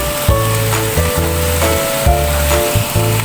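Pansit sizzling loudly in a hot pan for a home lunch, a steady close frying hiss with brief stirring scrapes and clatters breaking through.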